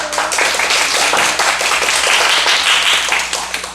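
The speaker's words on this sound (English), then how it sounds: "please give him a big applause." Applause from a Toastmasters meeting audience, a close, fairly loud round of clapping from a small group that holds steady before tapering off.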